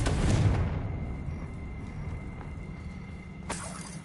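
A Confringo fire spell from the wizarding game Hogwarts Legacy bursts at the start with a heavy low rumble that fades out, then a second, sharper crack near the end.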